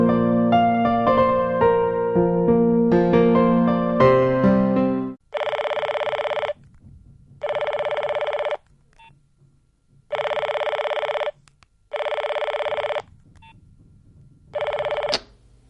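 A telephone rings in repeated electronic bursts, each about a second long and separated by short pauses, after a run of quick melodic dialing tones, loud and close with no talking.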